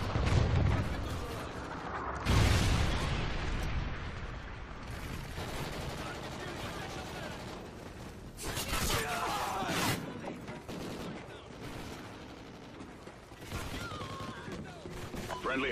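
Incoming Trinity rocket strike in a video game: heavy rumbling explosions and booms roll in waves, dense and loud, with bursts of gunfire mixed through the barrage.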